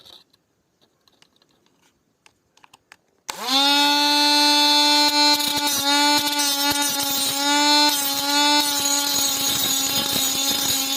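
An angle grinder sharpens a string-trimmer blade, starting after about three seconds of quiet handling clicks, then a loud, steady, high-pitched whine with harmonic grinding that holds to the end.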